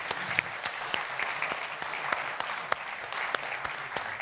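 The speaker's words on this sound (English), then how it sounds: "I think we should give this panel a big applause because they've been doing great." Audience applause after a conference panel at an aviation showcase day, a steady dense wash of clapping from a moderately sized crowd, heard at a moderate distance with no talk over it.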